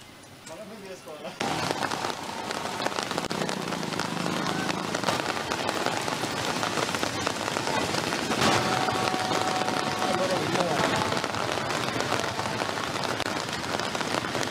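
Steady rain patters densely on surfaces, starting abruptly after a brief quieter moment and then continuing as a loud, even hiss with scattered drop impacts.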